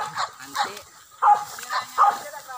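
A hunting dog barks during a wild boar hunt, several loud barks arriving in uneven bursts, close by, with people talking around them.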